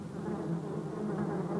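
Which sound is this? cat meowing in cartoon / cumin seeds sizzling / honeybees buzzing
honeybees buzzing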